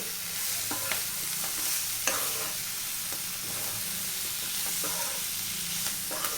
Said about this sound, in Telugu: ఇప్పుడు దీన్ని బాగా మిక్స్ చేసేసుకుంటే సరిపోతుంది